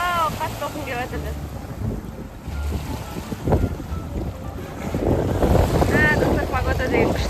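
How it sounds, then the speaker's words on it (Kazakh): Strong waves churn on Lake Alakol under gusting wind, a steady rough roar with heavier surges near the end, while voices call out over it. "Вау, қатты толқын келіп жатыр."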